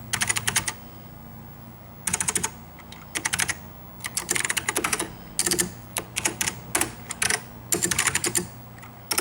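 Typing on a MacEffects replacement keyboard fitted to an Apple IIe, with close, crisp bursts of rapid keystrokes separated by short pauses.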